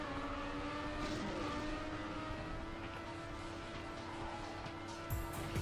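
A car in the video game Trackmania drives at high speed, its engine holding a steady, constant whine with little variation over a dense background hum, and no talking.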